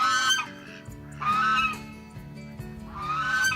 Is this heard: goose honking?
yes